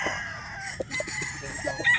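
A gamefowl stag crows nearby, a drawn-out rising call over faint background chatter and other birds, cut off by short clucking notes near the end.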